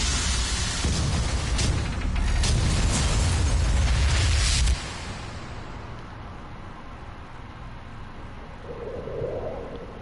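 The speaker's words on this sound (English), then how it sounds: "Warning, reactor detonation imminent." Reactor detonation on the Talos 1 space station in Prey: a massive sustained explosive roar for about five seconds, then a sudden cut to a quieter low rumble with a faint tone.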